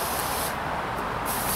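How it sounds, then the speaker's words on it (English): Oregon backpack sprayer spraying weed killer in a garden, giving a steady, close, loud hiss of spray that runs continuously throughout, with no talking. "So this is the spray. And as you can see, it's got a major amount of coverage."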